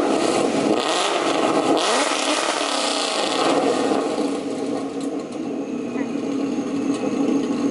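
A car engine fitted with AWE Touring mufflers starts and revs, giving a loud, steady exhaust roar with rising sweeps early on, while people talk over it.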